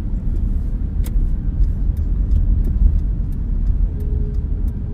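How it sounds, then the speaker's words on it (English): From inside a car driving along city streets in Paterson, a steady, loud low road rumble carries on, with faint scattered clicks and thumps over the engine and tire noise. No one speaks. "As I let you listen to the organic sounds of Paterson."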